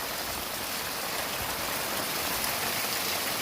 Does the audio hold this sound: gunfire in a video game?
no